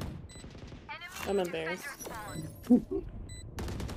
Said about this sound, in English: I just ran out shooting and a stray bullet clipped him in the head